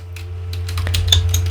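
Keys tapped on a computer keyboard while HTML boilerplate is written in a code editor, a quick uneven run of light clicks over a steady low hum, close by with no talking.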